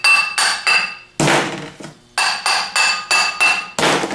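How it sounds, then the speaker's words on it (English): A hammer taps metal as a bushing is driven onto an armature held in a vise, giving a series of ringing clinks in quick groups, each with a short metallic decay, close up and alone. "put the armature in a vise, and tap it on"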